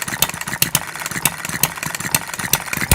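A small scratch-built hit-and-miss model engine running on a desk, a rapid, steady mechanical chuffing and clicking with regular sharp pops, close and fairly loud with no talking.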